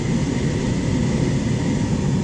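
A tow plane's engine drones steadily and loudly throughout while a glider is towed behind it near Cunderdin in smooth air, a continuous broadband roar with no talk over it.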